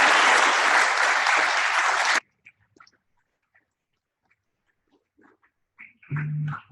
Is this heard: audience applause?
yes